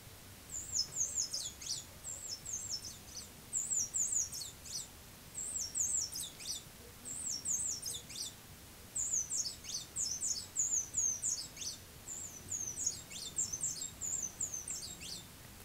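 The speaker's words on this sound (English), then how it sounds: "I'm going to play an example of a song from several individuals recorded on one of my core Leks in Trinidad" Several tropical hummingbirds singing at a lek in Trinidad, each phrase a brief, high, scratchy chatter repeated at short intervals, faint over a quiet outdoor background.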